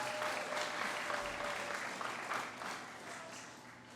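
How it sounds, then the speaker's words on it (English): A room of people applauds Tara at a testimony gathering. The clapping is dense and sustained, then eases and thins toward the end. "give her a little hand clap just for being up here today"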